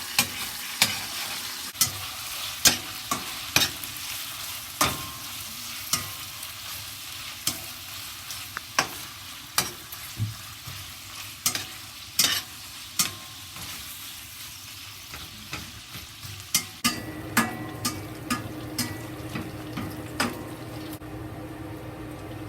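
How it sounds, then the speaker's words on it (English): Bacon fries in a pan over medium-low heat, with a soft steady sizzle broken by regular sharp scraping and clinking stirs. Near the end the sizzle grows fuller and louder. "fry the bacon."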